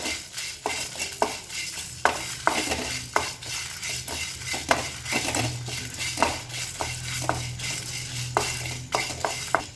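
Coriander fries gently on low heat in a pan while cooking shallot curry, a soft sizzle under repeated scraping and stirring strokes of a spoon against the pan, coming in an irregular rhythm, close up and without talk.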